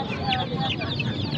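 Chickens cluck busily and continuously at a crowded poultry market in Karachi, with murmuring voices mixed into the steady background.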